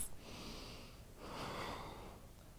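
Slow breathing while holding a yoga candle pose: a soft, close exhale followed by a louder, breathy inhale or exhale through the nose, quiet and unhurried with no talking.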